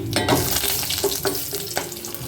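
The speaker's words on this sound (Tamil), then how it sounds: "இப்போ இந்த மசாலாலாம் நல்லா பொரிஞ்சிருச்சு" Cloves, cinnamon and a bay leaf fry in hot oil for a tomato potato kurma, a close, steady sizzle with bubbling crackles and a few clinks of stirring.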